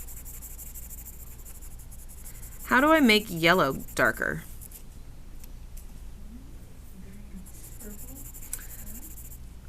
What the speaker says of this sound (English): Let's say I'm drawing a banana as part of whatever it is, my still life.